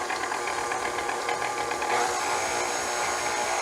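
An electric mixer runs at low speed, steadily blending dry ingredients into espresso butter brownie batter with a continuous whirring hum and faint rhythmic beater clatter, close and without talk.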